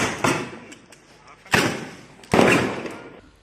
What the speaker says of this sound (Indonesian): Polisi terpaksa mengeluarkan tembakan peringatan ke udara untuk membubarkan warga.